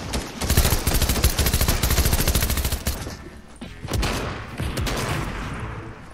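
Video game gunfire, rapid automatic bursts in a dense fusillade for about three seconds, followed by sparser shots and some faint voices, loud and close.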